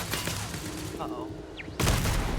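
Turret gunfire in Starfield rattles under a busy game mix, with firing present early, a quieter stretch, then a loud burst of shots near the end; a voice talks over parts of it.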